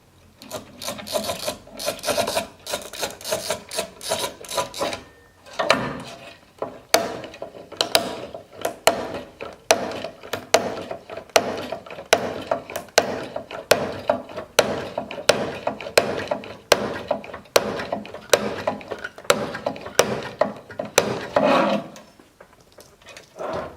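A Montolit Masterpiuma manual tile cutter scores across tile with a continuous scraping rasp, followed by a long series of sharp, evenly spaced clicks and snaps, close and alone without talk.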